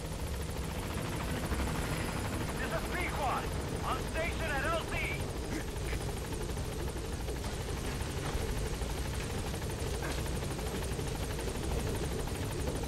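Helicopter rotors chop steadily through Metal Gear Solid V's game audio, a continuous loud drone at a landing zone, with a voice talking over it now and then.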